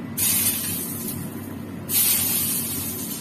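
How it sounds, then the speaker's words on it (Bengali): Whole garam masala and dried red chillies dropped into hot oil: a sharp burst of hissing spray that settles into a steady sizzle, then flares up again in a second loud burst, close up. "আমি দেখো এবার গরম মশলা ফোড়ন দেবো।"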